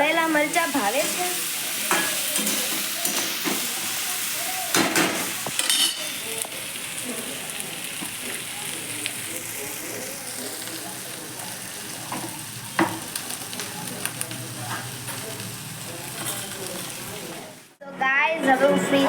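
Food frying and being stirred in a pan in a home kitchen, a continuous loud sizzle with scraping stir strokes and occasional utensil knocks, going on without a break.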